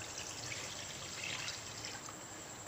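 About one and a half glasses of milk pour into a pan for Alfredo sauce, a quiet, steady trickling stream that continues throughout with no talking.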